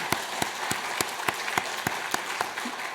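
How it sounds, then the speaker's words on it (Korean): Church congregation applauding to welcome a newly married couple, a continuous wash of clapping with regular, evenly spaced louder claps punctuating it, moderately loud with no voices. "박수로 다시 환영하겠습니다."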